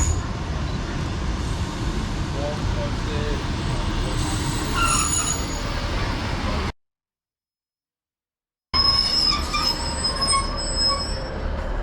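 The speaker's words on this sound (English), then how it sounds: "here is the 1457 East Midlands Railway service to Newark Castle" An East Midlands Railway train, unit 156916, rolls into a Derbyshire platform loudly with a steady rumble and high metallic wheel squeals, cutting off briefly before the noise resumes.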